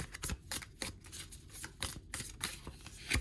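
Oracle cards being shuffled by hand, a continuous run of brisk riffling and flapping bursts in a steady rhythm, close and fairly loud, with no speech.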